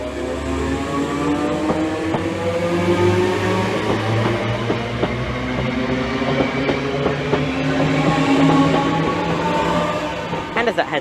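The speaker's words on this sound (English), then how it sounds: "the 1021 London Overground service from Chingford, from Enfield Town to London Liverpool Street" A London Overground train on the Enfield Town to London Liverpool Street service rumbles loudly through Bethnal Green station, with a steady drone, wheel clatter and squealing tones throughout.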